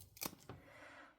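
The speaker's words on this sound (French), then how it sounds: "Juste des ciseaux vraiment normaux pour le papier." Ordinary paper scissors cut through a fabric zipper, giving two quick, faint snips close together followed by a soft, fading rustle.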